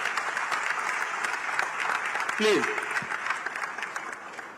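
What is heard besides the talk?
audience applause at plenary session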